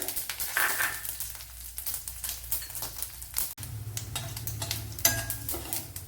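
Mustard seeds, shallot and dried red chillies frying in oil in a Kerala-style kitchen, giving an irregular crackle and sizzle with occasional utensil scrapes and a sharp knock midway.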